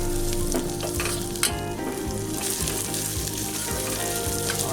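Onions frying in a pan for chilli paneer, a loud, dense sizzle with crackles and occasional stirring clatters, up close and continuous, no talking.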